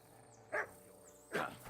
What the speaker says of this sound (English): You stupid mutt.